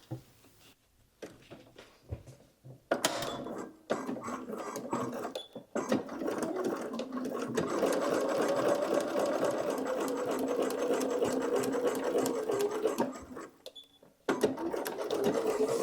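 A sewing machine stitches a drawstring reticule bag, running in short starts and stops, then settling into a long, steady, close whir of rapid needle strokes before pausing and starting again.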